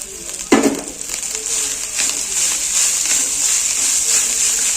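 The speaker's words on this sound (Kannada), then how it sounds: "ಇವಾಗ ಈರುಳ್ಳಿ ಎಲ್ಲ ಫ್ರೈ ಆಗಿದೆ, ರೈಸ್ ಹಾಕೊಳ್ಳೋಣ" Rice tipped into a pan of fried onions, a brief thump followed by a steady, moderate sizzle that holds at an even level throughout.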